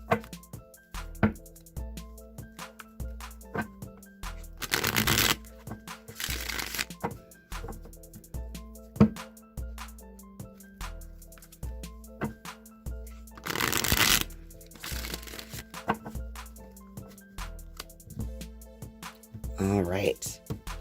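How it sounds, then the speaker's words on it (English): Rider-Waite tarot deck being shuffled in several bursts of riffling card flutter, close and crisp, with quieter stretches between and a soft voice speaking at times. "I'm going to shuffle the Rider-Waite deck real quick"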